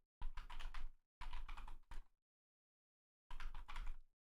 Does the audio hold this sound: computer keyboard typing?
yes